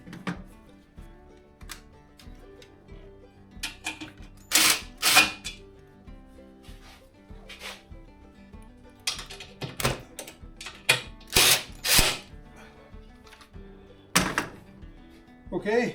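Screws driven into a Curtis cab on a Massey Ferguson GC2300 compact tractor, with repeated bursts of a power driver and clanks of work between them, while a voice speaks briefly.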